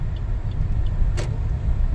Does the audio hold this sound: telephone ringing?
no